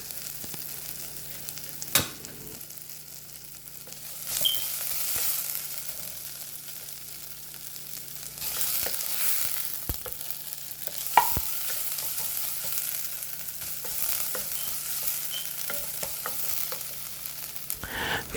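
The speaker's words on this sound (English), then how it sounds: "we're just gonna cook the ginger until it caramelizes" Ginger frying in oil in a pan until caramelized, a steady close sizzle with occasional louder bursts and spatula scrapes as it is stirred, no voices.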